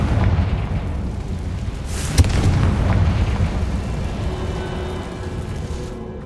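In Hogwarts Legacy, a cast Confringo spell lands with a sharp, booming explosion a couple of seconds in, sitting over a low, continuous rumble that slowly fades without any voices.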